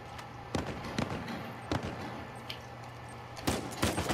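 Bomb blasts in the video game Uncharted 4 go off as a series of sharp, loud booms spaced irregularly through a few seconds over quieter game ambience, with no talking.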